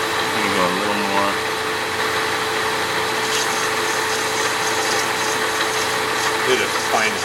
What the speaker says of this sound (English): He's polishing the brass.